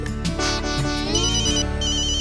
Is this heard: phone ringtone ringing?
yes